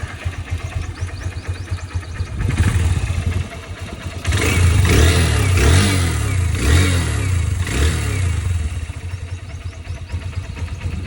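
A motorcycle fitted with a Spaco carburetor starts up close by, then idles with a steady beat and revs in several strong surges before settling back.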